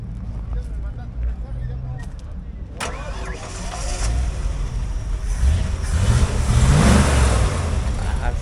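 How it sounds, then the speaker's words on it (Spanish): A Ford Custom 150 pickup truck at a car market cranks over and catches, then revs up, building from idle into a louder, rising engine roar close by, with people talking over it. "Ya la van a echar a andar, amigos. Esta está muy hermosa para que escuchen su motorcito"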